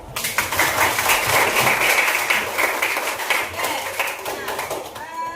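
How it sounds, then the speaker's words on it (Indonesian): A classroom of students claps hands together in a dense, continuous burst of applause, loud and close, lasting several seconds before tapering off at the end, with some voices mixed in. "Kita tepuk tangan."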